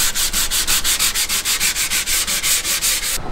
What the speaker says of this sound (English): I'm gonna hit the shelves with a little bit of sandpaper, rough it up a bit